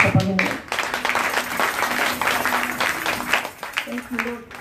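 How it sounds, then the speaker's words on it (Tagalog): Applause rolls on for several seconds at a church worship service, a dense steady wash of clapping with voices calling out over it. "Malakas na palakpak para sa Panginoon."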